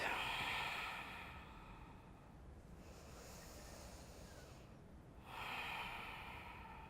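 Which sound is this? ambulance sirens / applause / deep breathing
deep breathing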